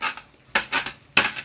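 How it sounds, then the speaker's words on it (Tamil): Garlic-pepper curry with masala stirred in a pot, three quick scraping, clinking strokes of a ladle against the vessel, close and fairly loud, with no talking. "உடனே கிண்டிடணும்"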